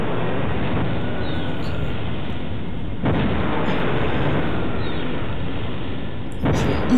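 Weapon fire and blasts in Half-Life, a continuous low rumbling barrage with sharp bursts at intervals, loud and dense throughout.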